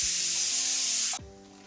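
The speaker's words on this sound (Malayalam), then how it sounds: "എണ്ണയും നന്നായിട്ട് ചൂടായിട്ട് ആ ഒരു ഹൈ ഫ്ലെയിമിൽ തന്നെ ഇട്ടിട്ട് നമുക്ക് ഓരോ നെയ്പ്പത്തിരിയും പൊരിച്ചു പോരാം" Neypathiri, a Kerala rice flatbread, is frying in very hot oil over a high flame and gives off a loud, steady hiss and sizzle close by that suddenly drops to a softer bubbling.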